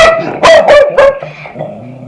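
A dog barks three times in quick succession, loud and close, followed by a softer whine trailing off.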